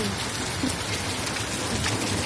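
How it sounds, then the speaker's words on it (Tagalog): Heavy rain pours down in a dense, continuous roar near a broken gutter, close and loud, with no voices. "Ang lakas ng ulan talaga."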